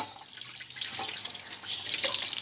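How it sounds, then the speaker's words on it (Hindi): Guava fruit washed under a running kitchen tap, with a steady splashing stream of water and shifting wet rinsing noises, close and fairly loud, no voices. "इसको पहले मैं वॉश करती हूँ अच्छे तरीके से"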